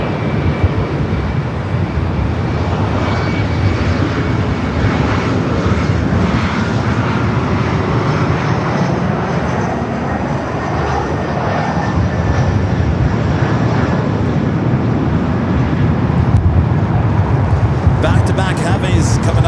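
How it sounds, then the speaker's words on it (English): Heavy jets on arrival at LAX, an Air France Boeing 777-300ER followed by a Lufthansa jet, make a steady, loud, broadband roar that builds slowly across the whole span, with a voice talking over it. "Back-to-back heavies coming up for arrival. Air France Flight 22, Kevin from Paris. 777 at 300ER, followed by the Lufthansa Queen."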